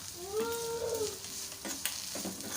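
A ground spice mix with salt and jaggery is sautéed in a hot pan for an eggplant rice dish. Soft sizzling, a brief tonal squeal early on, then a few scraping stirs.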